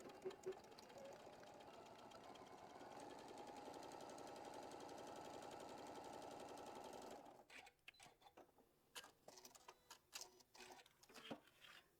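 A sewing machine stitches a quilt block in a steady rapid whir for several seconds, then runs in short, uneven bursts of clattering stitches, close and fairly quiet.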